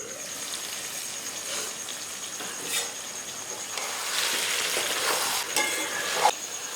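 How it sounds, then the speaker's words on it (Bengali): Jackfruit and soybean curry sizzles in a pan as it is sautéed, a close, continuous frying hiss with occasional stirring scrapes and a brief clink near the end. "দেখো কষানোটা কত সুন্দর হয়েছে, সব কিছুই সেদ্ধ হয়ে গেছে"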